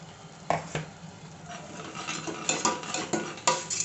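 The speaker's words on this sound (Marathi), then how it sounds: "गॅस छोटा मोठा करत आपण कांद्याची पेस्ट परतून घेऊयात" Onion paste frying in a pan for mutton rassa, stirred with a utensil that clinks and scrapes against the metal in irregular bursts over a faint sizzle, close by and with no voices.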